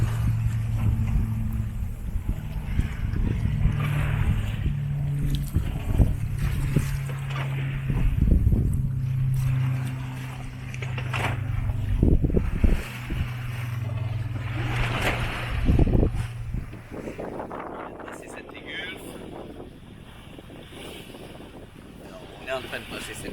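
A sailboat sails close-hauled along the coast near Cap Dramont's red rocks. Steady wind and water rush run underneath, with a low engine-like hum and a voice in the first half, then a quieter, hissy stretch at the end.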